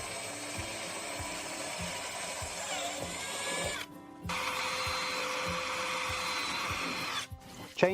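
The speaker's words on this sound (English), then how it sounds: "We drill the other 3 holes all the way through, but only the outer plate, and drill it carefully." A power drill bores holes through the outer plate of a 2019 Peugeot Partner van, whirring steadily at moderate loudness, cutting out briefly twice and then restarting, with a faint rhythmic mechanical ticking beneath.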